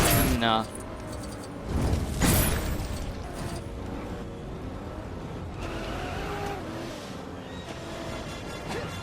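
A multicolored Batmobile drives in the video game Lego Batman 2 DC Super Heroes, its game engine whirring and rumbling alongside mechanical clanks and a burst-like crash. Someone talks over the game sounds.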